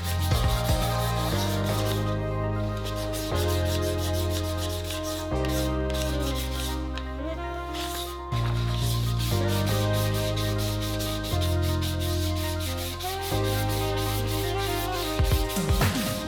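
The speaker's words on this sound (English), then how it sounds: "Now it's time for a good sanding session." Sandpaper rubs over a guitar electronics cover in repeated back-and-forth strokes, a close scratchy rasp running under a steady bed of background music.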